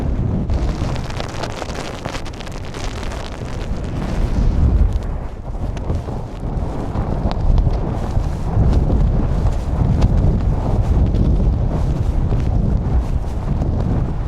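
Strong, cold wind roars without letup on a snowy summit ridge in winter, buffeting the microphone with heavy, rumbling gusts that swell and ease for the whole stretch, with no voices.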